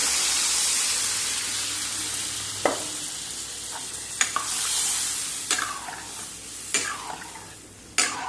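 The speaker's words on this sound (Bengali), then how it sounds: "এবার জল দিয়ে দেব।" Water goes into a hot frying pan and sizzles with a soft steady hiss, while a utensil stirs and scrapes in several sharp knocks near the end.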